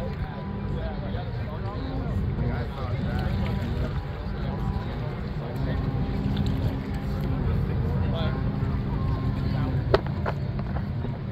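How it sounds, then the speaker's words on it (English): A large tanker ship cruises past on the water near New Orleans, its deep, steady rumble droning continuously throughout, with wind and water noise blending in. "Check out this big tanker ship cruising by, y'all."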